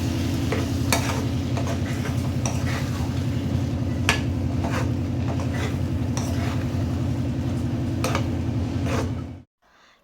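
A spoon stirs a ground paste of coconut, cashews and poppy seeds into bubbling meal maker (soy chunk) gravy in a pan. Steady sizzling and wet scraping with occasional metallic clinks continue for about nine seconds, then stop abruptly.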